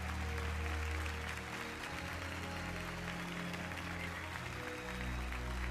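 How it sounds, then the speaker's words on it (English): A live crowd applauds at the Tokyo trophy ceremony for Gran Turismo World Series Round 3, Manufacturers Cup, as Team Subaru and Takuma Miyazono take the award. Sustained, dense clapping over steady tonal background music. "To the plaudits of the crowd here in Tokyo"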